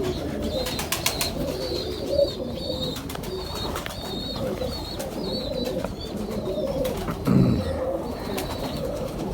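Pigeons coo softly and repeatedly nearby, overlapping low calls against a steady background murmur, with occasional rustling.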